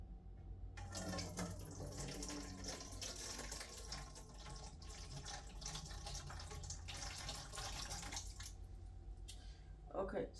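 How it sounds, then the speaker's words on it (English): Water is poured from a gill measure into a cup, a steady splashing trickle that runs for several seconds under a person talking. "We're going to dump it in to the cup here."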